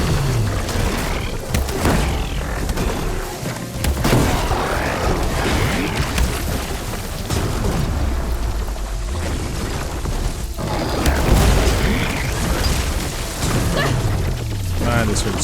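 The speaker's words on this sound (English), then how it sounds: "Bombs." Bombs exploding in Horizon Forbidden West, a series of deep booms and crashing blasts over rumbling combat noise, loud and continuous, with a voice speaking intermittently over the chaos.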